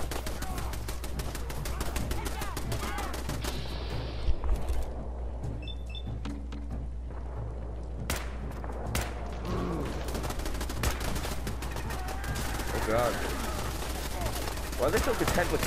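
Gunfire rattles through a Fallout 4 firefight, bursts of rapid shots and sharp single cracks scattered across a busy mix, with someone talking over much of it.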